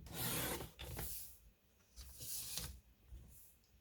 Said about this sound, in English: We are going to cut these to 5 3/4 of an inch.